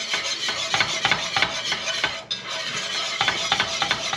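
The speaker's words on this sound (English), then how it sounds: "Give it a little bit of whisking." A whisk works roux for a duck gumbo in a pot, a close, rhythmic scraping and clinking of metal strokes against the pan, repeating steadily with a brief pause midway, no talking.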